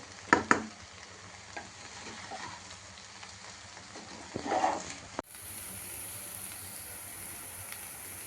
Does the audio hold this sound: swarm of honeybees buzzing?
no